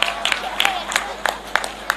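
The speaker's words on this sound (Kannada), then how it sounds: "ಜೋರಾಗಿ ಚಪ್ಪಾಳೆ ಪ್ಲೀಸ್" Applause from a crowd at a Dasara festival magic show, cheering a child on stage: a dense, steady patter of clapping with sharper individual claps standing out, fairly close and lively throughout.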